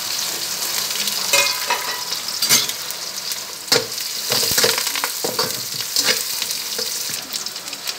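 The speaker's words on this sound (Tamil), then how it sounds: "இங்கே வெங்காயம்லாம் வதங்கிடுச்சு" Onion, curry leaves, garlic and dried chilli fry in hot oil in a pan with a steady, close crackling sizzle, and repeated spoon scrapes and clinks as the tempering is stirred.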